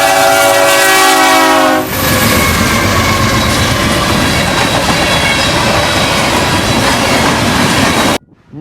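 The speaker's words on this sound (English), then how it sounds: "we look down at a westbound manifest with a trio of Union Pacifics for power" A westbound Union Pacific freight train, led by three Union Pacific locomotives, sounds its horn loudly and nearby, then roars past with a heavy rumble and rattling cars that ends abruptly.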